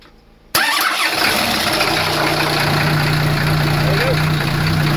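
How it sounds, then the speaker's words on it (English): A sailboat's inboard engine starts from cold without pre-warming: a brief crank, then it catches abruptly and settles into a loud, steady idle that runs on alone, close to the microphone. "Just want to show you how easily the engine starts."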